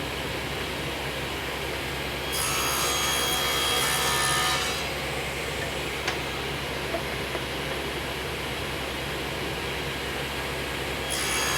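A saw cuts through wood for sliding bypass doors in a workshop, a steady rasping cut that swells louder for a couple of seconds, then continues more quietly with a few small knocks, close and without talk.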